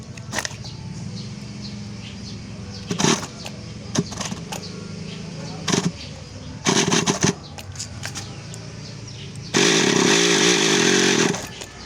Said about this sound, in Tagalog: maririnig mo iikot ang engine